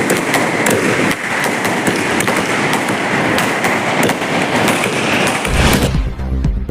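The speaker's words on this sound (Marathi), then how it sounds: "कराड नगर परिषदेमध्ये फटाके फोडलेले आहेत" Dense, continuous crackle of firecrackers bursting in rapid, overlapping pops, loud and close, set off at the Karad municipal council, ending abruptly into a lower rumble.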